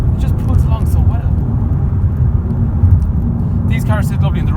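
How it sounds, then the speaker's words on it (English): A Honda Civic DTEC diesel with a 9-speed gearbox kicks down and accelerates hard, heard from inside as a loud, steady low engine drone throughout, with someone talking over it. "You floor the car, it just pulls along so well."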